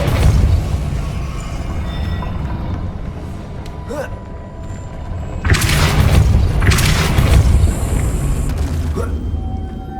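Depulso force spell impact in the Hogwarts Legacy video game, a loud booming blast with a heavy low rumble, repeated in two strong bursts over steady game ambience.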